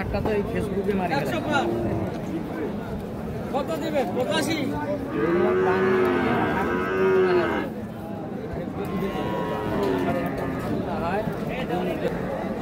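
Sahiwal bulls moo loudly several times at a cattle market, long drawn-out lows rising over a busy crowd with people chattering nearby.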